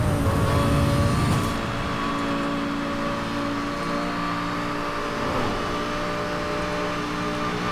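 A racing car in Need for Speed: Hot Pursuit speeding along a straight, its engine a loud, steady high-pitched roar with a brief heavier surge at the start, no talk over it.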